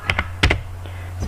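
Keys on a computer keyboard clatter close by during router configuration: a couple of quick taps, a short pause, then another pair of clicks over a low steady hum.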